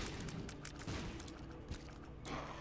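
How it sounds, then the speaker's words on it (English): Bomb explosions in the video game Binding of Isaac, a dense, noisy burst of crackling blasts and rumbling game sound filling the whole stretch at steady loudness. "I don't know if I get hurt by explosion."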